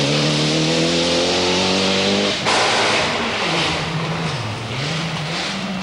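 Rally cars at the 1992 Rally of Malaysia racing on a forest stage, engine roaring loud and close with a steady high-revving tone that cuts to rough, noisy revving, the pitch then dipping and climbing through a gear change.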